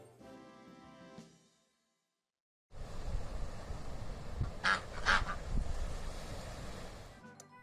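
Two quick goose honks from the Super Auto Pets video game sound close together over a dense wash of game noise, following a stretch of game music and a brief silence.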